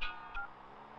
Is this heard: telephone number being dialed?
yes